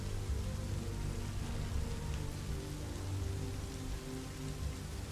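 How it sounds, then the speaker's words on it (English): Heavy rain drums on a roof as a dense, constant wash of patter that stays loud and unbroken throughout, with a low rumble beneath and no talking. "I look up and hear the sound of the rain beating on the on the roof"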